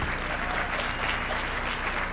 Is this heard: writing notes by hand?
no